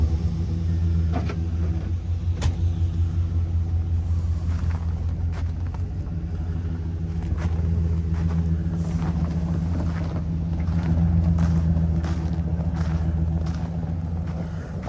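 A car drives along a road by off-grid cabins in Alaska, its engine a steady, loud rumble with wind noise, lasting throughout with no talking.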